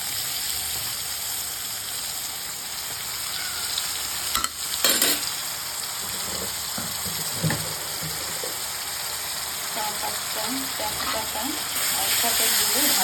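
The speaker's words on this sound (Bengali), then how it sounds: "করে মশলাটাকে কষিয়ে নেব মশলাটা ততক্ষণ কষাবো যতক্ষণ তেল" Ginger and garlic spice paste fries in oil for a taro curry, a steady close sizzle throughout with occasional scraping stir strokes near the middle.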